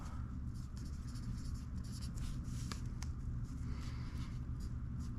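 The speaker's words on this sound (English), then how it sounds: "I'm going to just write down your guys' names." Pen scratching across paper as names are written by hand during a trading card case break, a quiet, steady scribbling close by with small pauses between strokes.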